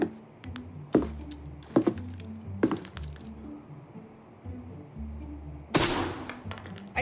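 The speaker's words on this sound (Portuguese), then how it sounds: "Ai, tomei um tiro." Sharp gunshots from the video game Arena Breakout Infinite crack out one at a time, several spaced reports over a low rumbling backdrop, with one louder, brighter burst near the end.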